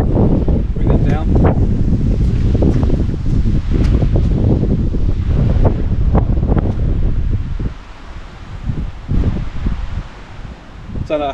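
Strong wind of about 40 mph buffets a microphone outdoors at a location shoot, giving loud continuous rumbling gusts with rustling that ease for a moment near the end, while someone talks throughout.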